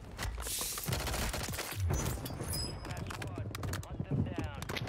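Rapid bursts of gunfire in Call of Duty Warzone on Rebirth Island, fairly near and dense, mixed with a voice talking throughout.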